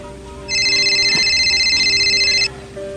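A telephone rings in a steady electronic trill for about two seconds indoors, loud and close, with quiet room noise before and after.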